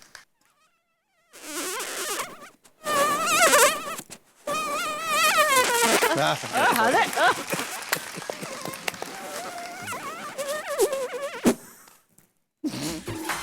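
A voice imitates a whining mosquito with wavering, buzzy tones in several bursts separated by short pauses, fairly loud and close.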